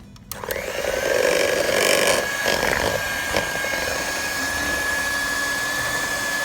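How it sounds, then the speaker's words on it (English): An electric hand beater mixes chocolate cake batter with a steady, high whirring drone that holds a constant pitch. It runs continuously and close by, with a few clatters of the beaters against the bowl near the start. "And then beat it again with a hand beater."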